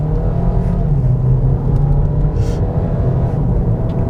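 A 2022 Kia Niro hybrid accelerates at full throttle in sport mode with paddle shifters, giving a steady, loud, close engine drone with road rumble throughout.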